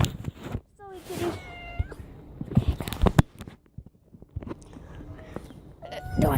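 A domestic cat outdoors meows several times, short rising calls spaced apart, close by, with people talking and moving around it and some footsteps.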